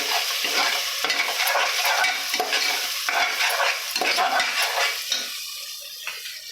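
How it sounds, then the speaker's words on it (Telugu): Ginger garlic paste sizzles loudly in a hot pan while a spoon stirs and scrapes it in repeated strokes, the frying dense and close before easing slightly at the end. "అల్లం వెల్లుల్లిపాయ పేస్ట్ వేసాను."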